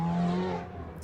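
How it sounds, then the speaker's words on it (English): A Ferrari 488 Challenge Evo race car accelerates hard past on the circuit at Sonoma, its engine note loud and close, sustained for about a second before fading slightly. "So there is the 498 car of Enoch Hurd, the Ferrari of Atlanta driver"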